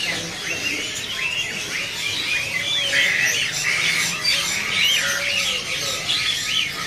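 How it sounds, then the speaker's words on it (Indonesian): Pleci Dakun Garut birds chirping and squawking at a bird-selling kiosk, a steady overlapping chorus of bright calls that carries on throughout. "Di sini ada burung Fleci Dakun Garut ya."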